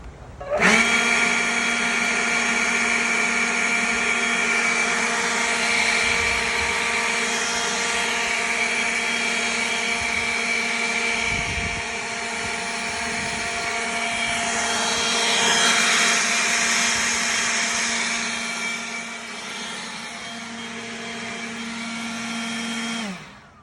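Ryobi cordless leaf blower runs continuously at close range, a loud, steady whining tone with strong harmonics that swells slightly in places before cutting off at the end.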